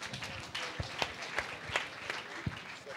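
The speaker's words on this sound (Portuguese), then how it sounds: "Palmas." Applause from the audience at a marketing panel talk, a thin scattering of claps with a few sharper hits standing out, fairly quiet and short.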